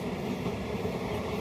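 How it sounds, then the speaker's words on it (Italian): A passenger train rolling along rails near the Cambodian border, a continuous rumbling drone with faint rhythmic wheel clatter, heard from inside the carriage. "però devo dire ormai mi sono abituato ai treni così"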